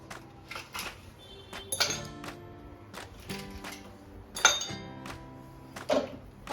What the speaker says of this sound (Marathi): आता आपण त्याच्यात आईस क्यूब टाकायचे, म्हणजे बर्फाचे खडे टाकायचे.